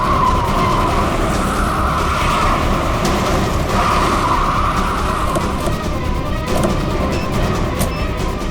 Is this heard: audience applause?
no